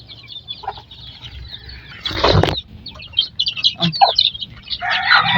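Hens cluck and flap their wings close by at feeding time, a burst of wingbeats followed by short clucks and calls, with a louder flurry near the end.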